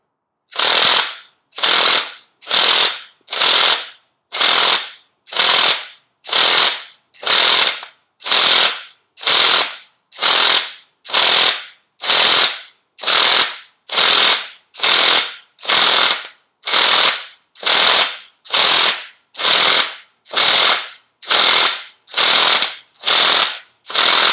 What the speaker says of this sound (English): Ryobi 18-volt impact wrench, we're going to tighten this thing on